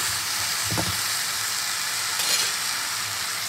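Pumpkin greens sizzle steadily in a pan, a continuous bright frying hiss with a brief clatter of stirring near the start and another faint stir later, no talking.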